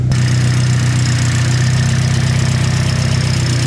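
Steady, close idle from an SR-Z engine fitted with a turbo setup, a deep, even rumble with a slight rhythmic lope and no talking over it.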